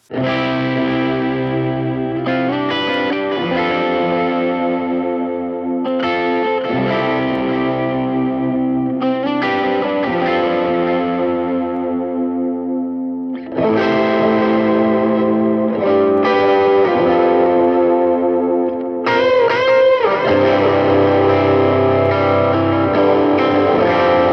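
Electric guitar played through a Fender Mustang GT 100 amplifier preset, distorted and chorused with some echo, sustained chords ringing out in several separate phrases, loud and without talking.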